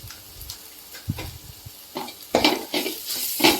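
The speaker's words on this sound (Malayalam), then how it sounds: "നന്നായി ഇളക്കി വഴറ്റിയെടുക്കാം" Chili powder being stirred and sautéed in a pan for tomato rasam: intermittent spoon scrapes and clinks against the pan over a soft sizzle, getting louder and busier toward the end, no speech.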